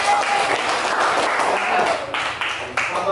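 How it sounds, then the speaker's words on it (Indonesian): Classroom group of students claps for a group, dense steady applause filling the whole short stretch with a voice faintly beneath. "Tepuk tangan buat kelompok 1."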